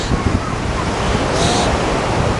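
Steady roar of sea surf breaking on a beach, a dense continuous wash with a brief brighter hiss of foam midway, loud and close with wind buffeting the microphone.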